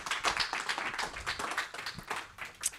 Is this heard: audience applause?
yes